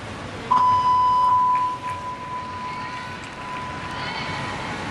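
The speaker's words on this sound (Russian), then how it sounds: "Сигнал за 10 секунд до окончания традиционный." A steady electronic warning tone sounds ten seconds before the end of a balance beam routine at the 2017 World Championships in Montreal, a single long beep over arena crowd noise.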